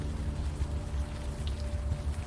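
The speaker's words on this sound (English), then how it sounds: "You're walking the streets in the rain" Steady rain falls on a city street in the video game Unavowed, a dense even patter of drops with no voices.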